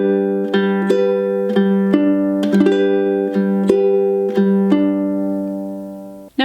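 Ukulele plays a fingerpicked pattern for a song at song tempo, clear plucked notes ringing in an even repeating rhythm, close and bright, alone with no talking until a brief bump at the end.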